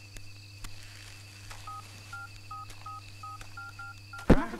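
A telephone being dialed in a Hindi action film: a steady run of about a dozen short keypad tones over a low hum, ending in a brief handling clatter.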